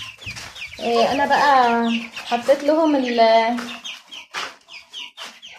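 Red hybrid baladi chickens give loud, drawn-out clucking calls close by, followed by shorter scattered clucks, with someone speaking briefly among them.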